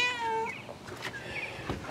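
A cat meows near the microphone, one drawn-out clear meow followed by softer chirping mews over quiet outdoor background, no talking.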